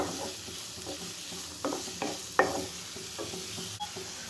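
Onions with a little salt sizzle quietly in a pan while a spoon scrapes and stirs in a few distinct strokes.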